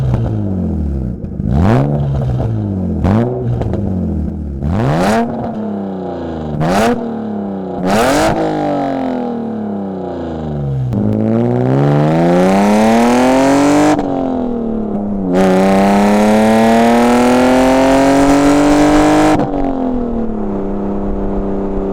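A BMW E36 with sensor faults idles and is revved several times. Short, sharp throttle blips rise and fall in quick succession, then give way to two longer, climbing revs that hold high before dropping back, all loud and close.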